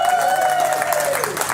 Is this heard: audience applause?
yes